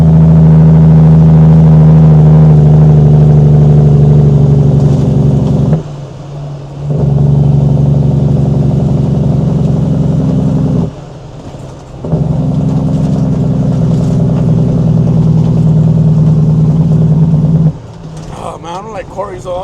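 A dump truck hauling loads of #56 stone rumbles with a loud, low, steady droning engine from inside the cab, broken by three short drops in power, with some noise near the end.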